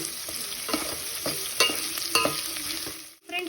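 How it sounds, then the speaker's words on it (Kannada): Onions frying in a pan for sambar, a steady close sizzle broken by repeated scraping and stirring strokes of a spoon, with no talking. "ಈರುಳ್ಳಿನ ಚೆನ್ನಾಗಿ ಫ್ರೈ ಮಾಡ್ಕೊಳ್ಳೋಣ."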